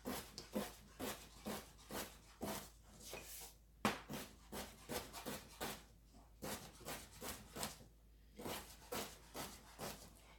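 A knife dices melon and mango on a cutting board for salsa, a close run of quick rhythmic chops and scrapes with short pauses between bursts, no talking.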